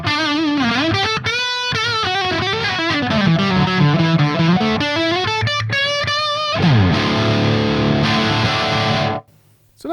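Electric guitar played through a Ceriatone AH 50 amplifier with a Marshall-style crunch, loud distorted chords and melodic runs ringing out, then a sustained chord that decays before cutting to near silence.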